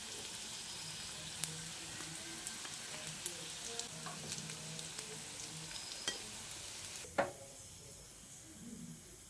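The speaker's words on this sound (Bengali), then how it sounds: "একইভাবে বাকি কাটলেটগুলোকেও ভেজে নিচ্ছি।" Flattened rice (chira) cutlets fry in hot oil with a steady, quiet sizzle and occasional soft clicks and pops, finishing with one sharper clack near the end.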